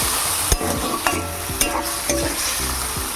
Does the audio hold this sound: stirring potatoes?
yes